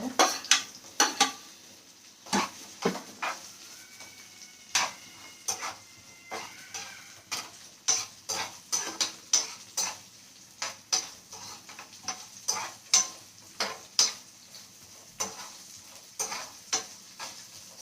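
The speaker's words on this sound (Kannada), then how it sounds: "ಸೊ ಈಗ ನಾನು ಆನಿಯನ್ನ ಮಿಕ್ಸ್ ಮಾಡ್ಕೊಳ್ತೀನಿ ಇದಕ್ಕೆ." Onions being stirred and fried in oil for a green chicken gravy: repeated sharp spatula scrapes and clinks against the pan, roughly one every second, over a soft steady sizzle.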